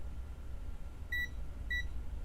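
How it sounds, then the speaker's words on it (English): An electronic tester in beep mode gives two short, clear, high-pitched beeps about half a second apart over a low room hum, checking connections on a FLIR Lepton thermal camera board driven by a Teensy microcontroller. "I want beeps."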